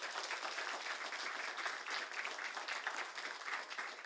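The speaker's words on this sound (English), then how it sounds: "So let's give another round of applause for." Steady applause from an audience after a keynote talk on global scale species distribution modelling, a dense even wash of many hands clapping that holds at a constant level throughout.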